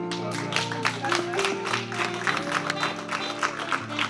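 A banquet audience at a survivors' safety and justice dinner breaks into brief, scattered applause, the clapping bursts mixed with background music.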